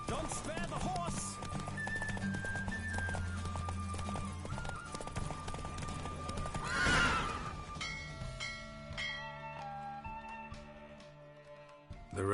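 A racing horse in The Witcher video game gallops with steady hoofbeats and gives a loud whinny midway, all under music, before the hooves fade toward the end.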